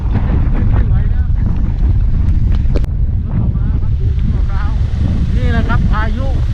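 Strong Storm Pabuk winds batter the Don Sak pier on the Andaman coast, a loud, constant roaring rush buffeting the microphone, with a voice speaking faintly underneath.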